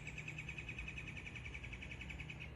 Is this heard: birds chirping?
yes